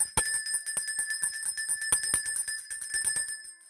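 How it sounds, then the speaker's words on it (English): A bell is rung repeatedly in quick, uneven strikes, each bright metallic ding ringing out clearly and close with sustained overtones and no speech. "the dog just went nuts when I rang the bell"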